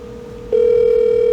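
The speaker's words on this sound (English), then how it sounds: "And you can hear the phone behind me ringing." A desk phone rings close by, a steady electronic tone that starts abruptly partway through and holds continuously to the end.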